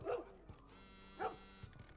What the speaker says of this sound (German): Da draußen bellt ein Hund.